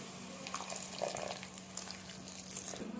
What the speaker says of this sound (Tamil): லைட்டாக தண்ணி ஆட் பண்ணிக்கோங்க.